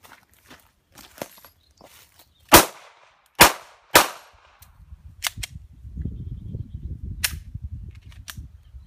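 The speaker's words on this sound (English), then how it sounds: "I'm just going to shoot the rest of the bullets into it." Glock pistol fired into a level 3 armor insert: three loud close shots in quick succession, then a few fainter cracks, with shuffling footsteps and rustling in between.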